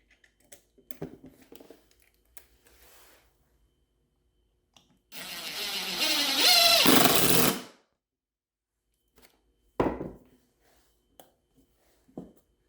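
A power drill drives a screw through a pilot hole into wood with a T25 bit, a loud steady whir of about two and a half seconds standing alone amid quiet bench handling.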